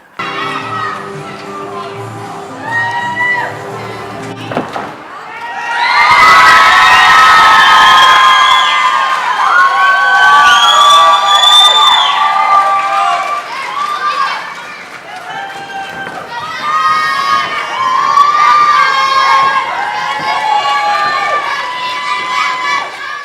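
A large crowd of children cheers and shouts loudly at an outdoor event, a sustained roar of whoops and high voices that swells, dips briefly and rises again, following a short stretch of quieter music and chatter.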